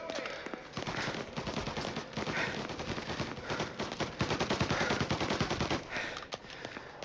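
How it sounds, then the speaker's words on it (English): Rapid machine gun fire in a video game, dense bursts of loud shots rattling almost continuously, with occasional brief pauses and some faint voice underneath. "Wait, someone has a machine gun?"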